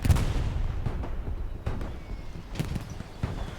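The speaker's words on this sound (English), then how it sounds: "Benfield lobs a grenade." Grenade explosion in a multiplayer war shooter game, one of several dull booms amid repeated gunfire bursts and battlefield rumble, moderately loud with no talk.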